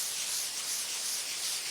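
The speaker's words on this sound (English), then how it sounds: "Gonna spray a couple of these other bad areas" Soft wash chemical sprays from a hose line onto a concrete pool deck as a continuous close hiss, steady and alone throughout.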